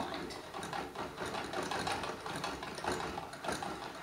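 A yarn ball winder spins yarn in a steady, continuous mechanical whir with a faint rhythmic pulse, heard close up and on its own.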